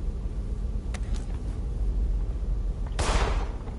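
A single sharp gunshot rings out in the game In Sound Mind, preceded by a few faint clicks over a low steady rumble of background noise.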